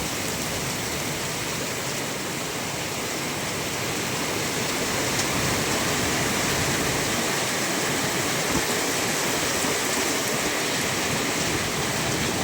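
Heavy rain with wind pours down in a dense, steady roar, loud and close, continuous throughout with no voices.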